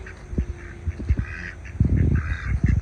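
Visiting ducks in a raised bed vegetable garden quack and honk nearby, scattered calls rising into a louder, busier flurry of quacking toward the end.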